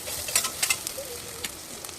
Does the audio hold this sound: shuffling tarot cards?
no